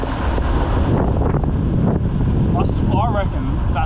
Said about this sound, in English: That wind has just grabbed it and said, see you, mate.